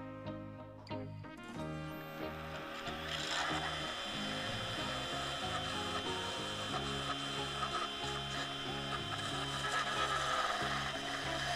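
A skew chisel cuts a Tassie oak pen blank spinning on a wood lathe, giving a steady close scraping hiss over the motor's low hum, with no talking.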